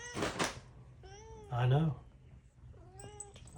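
Several kittens give short, high meows in quick succession, close by, while a person speaks a few quiet words between them.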